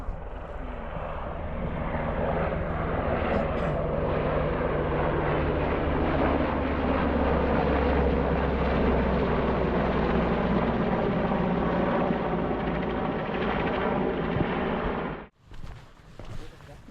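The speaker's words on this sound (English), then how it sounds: "There's a helicopter. There we go, helicopter next." Helicopter flying over a lakeside valley near Grasmere and Rydal Water, a loud steady engine and rotor drone holding for about fifteen seconds before cutting off abruptly, with a brief quieter tail of outdoor noise.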